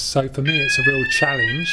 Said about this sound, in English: that's the fire alarm being tested.